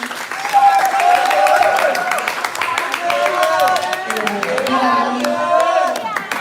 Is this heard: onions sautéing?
no